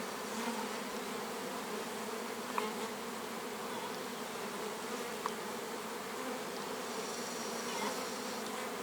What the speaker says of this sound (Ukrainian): Просто класний льот бджоли.